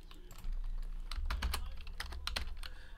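Close-up typing on a computer keyboard while a sticker code is entered, several distinct clicks in uneven bursts with no talk over them.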